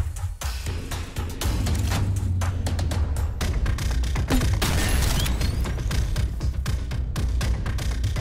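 Weapon fire in the top-down shooter game Synthetik: rapid bursts of sharp shots and thuds crackle in quick succession over a low musical drone, loud and continuous for most of the stretch.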